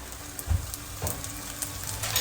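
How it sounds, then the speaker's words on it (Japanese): Sesame oil drizzled into a hot pan where tofu and egg patches are frying, giving a soft, steady sizzle with a few small pops, fairly quiet and without voices. "そしたら、ごま油をね、回しかけますね。"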